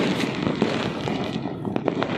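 New Year fireworks and firecrackers crackle and pop from all directions, a dense run of sharp bursts at moderate distance with no voices.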